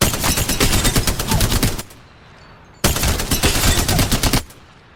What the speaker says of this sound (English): That's what happens when you stand dead still with the Spitfire.